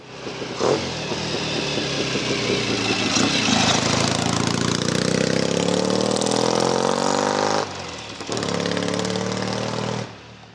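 Red Laverda motorcycle engine running at an auction, a close, steady mechanical drone with rising revs, briefly dropping off near the end before picking back up, then cutting out.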